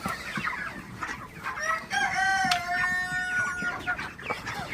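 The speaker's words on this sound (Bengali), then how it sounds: "মুরগিগুলাকে একটু তাড়াই দিচ্ছি আসলে, একটু পরে নিতে আসবে যাতে খাবারটা একটু খাইতে পারে।" Broiler chickens on a farm before dawn, being shooed toward their feed: close, busy clucking with one drawn-out, crow-like call in the middle.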